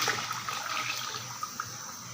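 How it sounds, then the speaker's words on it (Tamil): Tamarind water poured into a pan of onion and garlic frying in oil, a steady splashing, sizzling rush that runs throughout at moderate level without speech. "கரைச்சி வச்ச புளித்தண்ணியை இதில் ஊற்றிடலாம்"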